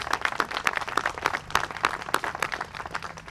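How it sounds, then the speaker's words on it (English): Audience applause at an outdoor community ribbon-cutting and valve-turning ceremony: steady, dense clapping from a crowd, moderately loud and continuous throughout. "let's give them all a round of applause too"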